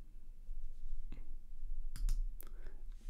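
A few sharp computer mouse clicks, two or three close together near the end, while the arpeggiator is switched on in the VPS Avenger synth, over a quiet low hum.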